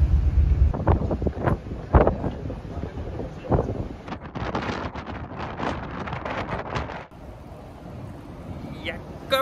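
Wind buffets the microphone on a ship at sea en route to Iceland, a loud, gusty rumble that swells and eases, with speech underneath part of the time.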